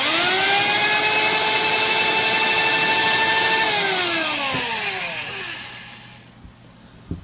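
A Stanley mini fixed-base trim router runs at a loud, steady high-pitched whine, then switches off and spins down over a couple of seconds, ending with a small clunk.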